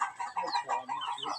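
Chicks clucking and cheeping in quick, overlapping bursts, close by and fairly lively, with no talking.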